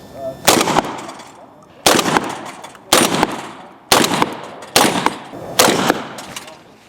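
Six shotgun blasts at steel plates during practical shotgun shooting, loud and close, each with a broad booming decay, fired in a steady rhythm roughly one second apart.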